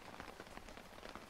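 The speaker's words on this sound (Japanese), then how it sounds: "雨足が強くなりそうだからな。" Steady rain pours down in an audio drama scene, a dense, even hiss of drops hitting surfaces at close range, with no voices over it.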